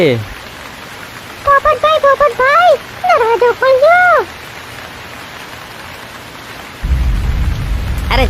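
Steady rain hisses in the background of a jungle scene while high animated cartoon voices speak, then a deep rumble of thunder rolls in near the end.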